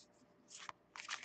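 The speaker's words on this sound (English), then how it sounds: "what I'm doing right now is I'm just shuffling the deck" A tarot card deck is shuffled quietly by hand, giving soft papery riffles and brushing bursts with a short crisp snap between them.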